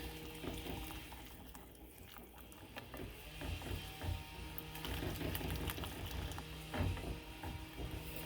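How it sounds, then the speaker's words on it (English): A whisk stirring cocoa powder into a melted mixture in a pan for Texas sheet cake, quiet rapid rhythmic scraping and clicking that continues steadily throughout, with no voices. "I'm going to go ahead and add in my 5 tablespoons of cocoa powder. Just going to whisk this together."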